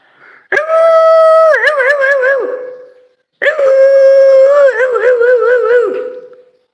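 A human voice mimics a puppy's howl in two long wavering howls separated by a short pause, loud and close, with no other sound around them.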